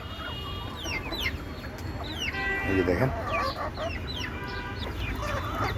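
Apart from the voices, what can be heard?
clucking desi chickens, laying hens on a rooftop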